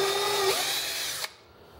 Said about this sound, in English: I'm going to drill these kind of